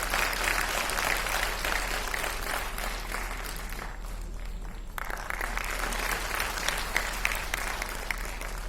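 A crowd at a Delhi Police Family Welfare Society event applauds steadily, a dense wash of clapping with a brief lull midway before picking back up, at moderate distance and without speech.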